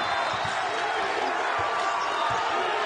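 A crowd roars at a college basketball game between Toledo and Kent State, a dense, steady wall of cheering noise that fills the arena, with faint ball bounces underneath.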